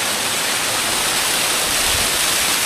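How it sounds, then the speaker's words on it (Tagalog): Waterfall near Puerto Princesa, Palawan, in the Pyamalaguan area: a steady, loud, broadband roar of falling water filling the whole clip, with no pauses and no voices. "So dito tayo sa bagsakan ng tubig."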